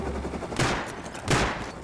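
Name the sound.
gunfire in the video game Rust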